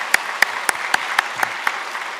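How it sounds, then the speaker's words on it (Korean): Welcoming applause from a church congregation during a Sunday worship service. Widely spaced, rhythmic claps ring out at an even pace, about eight in a row, crisp and fairly close, with little else around them. "우리 함께 환영의 박수 함께 드리도록 하겠습니다."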